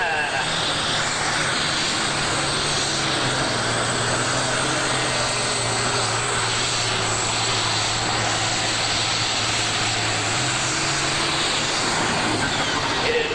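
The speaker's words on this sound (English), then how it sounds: "Here it comes, the 3 turbocharged John Deere, Bart Johnson." A triple-turbocharged John Deere super stock pulling tractor at the 1988 Ohio State Fair makes a loud, continuous roaring whine that holds steady throughout, with an announcer talking over it.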